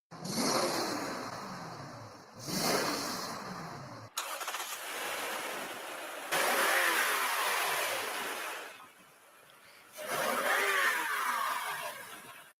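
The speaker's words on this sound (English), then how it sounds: "the sound of an approaching vehicle speeding towards you wouldn't just be audible, it would be alarming" A car engine accelerating toward the listener in a courtroom recreation of a vehicle speeding in reverse with the gas pedal pressed to about 75 percent, heard as several loud surging passes separated by brief gaps, with no talk.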